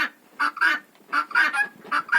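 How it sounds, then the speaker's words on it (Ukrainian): A loud, close white guinea fowl gives a series of harsh, repeated honking calls in quick bursts, with short pauses between them. "Оце біла цесарочка кричить."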